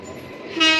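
A passing train crossing the Jubilee Bridge over the Ganges near Bandel gives a steady rumbling roar that suddenly swells near the end, with a brief horn-like tone rising over the noise.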